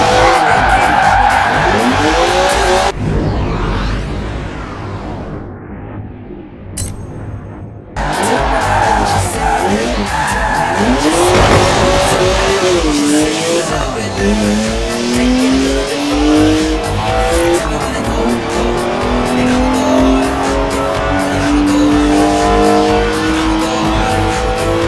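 A 3-litre twin-turbo straight-six car with 335 horsepower drifts in Forza Horizon 4, engine revving and rising in pitch through gear changes while tires squeal and skid loudly, with a brief lull partway through.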